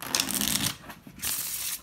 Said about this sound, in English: it still shuffles really nicely.